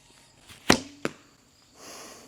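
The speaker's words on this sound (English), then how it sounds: "I'll just shoot these 3 arrows real quick for you." Bosen ILF longbow with carbon foam limbs shooting an arrow: a sharp close string snap with a brief twang, a second quick thud moments later, then faint hiss, no talking.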